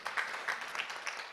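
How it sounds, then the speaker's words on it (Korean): Audience at a forum on Korean Peninsula peace in Jeju applauding the presenters, a brief, soft patter of many hands heard from a distance in a large hall. "네 분 발표자한테 다시 한번 뜨거운 박수 좀 부탁드리고요"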